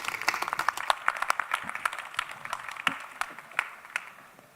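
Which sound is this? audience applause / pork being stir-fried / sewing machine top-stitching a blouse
audience applause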